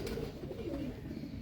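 Tidy pigeons kept by a pigeon-racing enthusiast coo close by in soft, low, throaty rolls, over a rumbling outdoor background.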